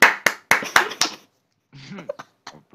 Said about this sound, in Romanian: Aplaud.